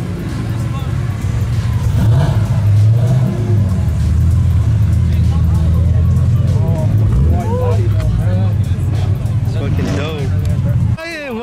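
A white M3 with a stock engine idles and revs at a car meet, giving a loud, sustained low rumble that swells throughout while people talk nearby.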